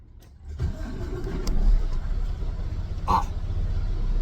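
A truck engine, fresh from routine service with new filters and oil, starts up and settles into a steady, smooth idle. The rumble stays close and even, with a brief higher chirp partway through and no talking.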